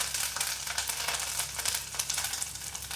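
Curry leaves sizzle and crackle loudly in hot oil, a dense continuous spattering hiss, close and alone, with no voices.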